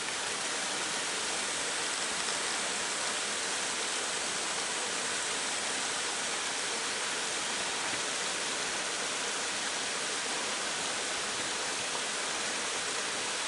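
Steady rushing water of a mountain valley stream at Tojokdong Valley on Deogyusan, a dense continuous broadband wash that stays even and close throughout, with no voices.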